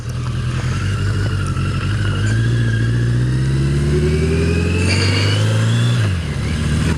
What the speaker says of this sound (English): Today I'm on the 1982 Yamaha XJ650 Maxim, my favorite ride